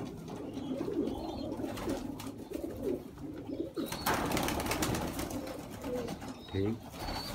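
Sialkoti pigeons coo in a steady, continuous flock murmur that carries on throughout, with people talking over it at close range.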